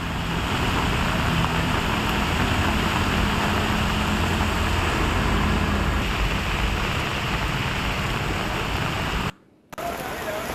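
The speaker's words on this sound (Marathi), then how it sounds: "बदलापुरात मुसळधार पाऊस सुरू आहे" Heavy monsoon rain pouring down in Navi Mumbai, a dense steady hiss of rain with a low rumble of traffic underneath, loud and continuous, cutting out briefly near the end.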